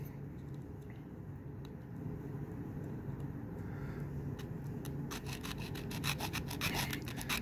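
A nail file sands a groove into a fingernail, giving a quiet rubbing scrape that turns into rapid rasping strokes toward the end, close and alone.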